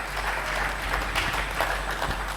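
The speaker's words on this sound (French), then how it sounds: "Acclamons très fort pour le roi des rois." Sustained, dense applause from a church congregation during a French-language sermon, a steady wash of many hands clapping with no voices rising above it.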